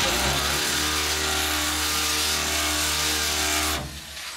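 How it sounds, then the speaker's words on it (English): A drill reams out a hole to fit a rivet nut during an AeroBox assembly. Its steady, loud, close motor whine runs for about four seconds, then cuts off abruptly. "so we'll just ream it out just a little bit more"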